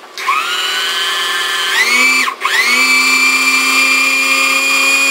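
A Janome 625e sewing machine winds a bobbin with a steady, high motor whine heard up close, briefly dipping and cutting out around the middle before spinning back up and running on.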